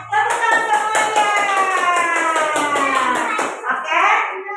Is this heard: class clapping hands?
yes